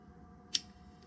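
A single sharp click as a connector snaps onto the throttle body of a Suzuki 450RMX during a JD Tuner install, short and close, standing alone over a low steady background hum.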